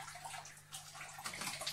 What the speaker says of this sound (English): So I'll just scoop it out like that,